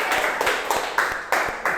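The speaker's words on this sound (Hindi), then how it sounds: "अब तुम ताली बजाते हो" Students clapping their hands together in a classroom, about six sharp, fairly even claps in quick succession, close and moderately loud.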